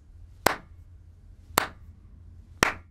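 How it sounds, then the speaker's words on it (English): A few sharp claps in the video game Garten of Banban 4, three isolated hits about a second apart, close and crisp over a faint low hum, with no voices. "Can I have some applause for my little poem"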